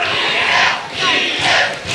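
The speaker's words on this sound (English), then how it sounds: "now the crowd's starting to come alive for Edith Surreal" A wrestling crowd at a battle royale show roars and cheers in three loud swelling waves, a dense wash of many voices with no single speaker standing out.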